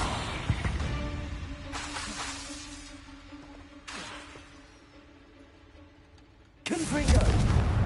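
Confringo blasting curse explosions in the video game Hogwarts Legacy, several sharp booming blasts with rumbling tails, spaced apart and the last one loudest and heaviest.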